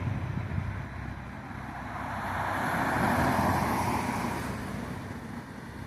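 A car passes along a road outdoors, its broad tire-and-engine rush swelling to a peak midway and fading, with wind noise on the microphone and no talk.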